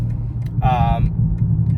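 A BMW M4 engine rumbles low and steady with its exhaust valve fully open, with a brief raspy exhaust burst partway through, close by.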